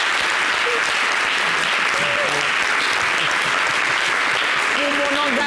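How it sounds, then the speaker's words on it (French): A studio audience at a Côte d'Ivoire talk show bursts into loud, sustained applause for the president's chief of staff, clapping dense and continuous throughout with faint voices and tones threaded underneath. "Ça s'applaudit, s'il vous plaît"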